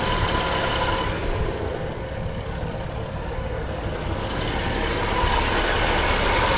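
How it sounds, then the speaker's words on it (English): A Triumph Herald Estate engine idles after a carburettor swap, a steady, even mid-pitched rumble heard up close under the open bonnet, running smoothly throughout without revving or voices. "I mean, the engine sounds okay."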